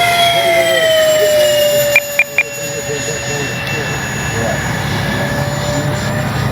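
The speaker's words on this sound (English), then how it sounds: "Great sounding jet." An E-flite Habu XS 80mm electric ducted-fan RC jet whooshes past with a high whining turbine tone that slowly falls in pitch, loud and steady throughout, with a few short clicks near the middle.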